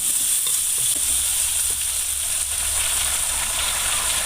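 Ground spice paste sizzles and fries in a pan with salted fish, a loud continuous hiss with occasional soft stirring clicks close by.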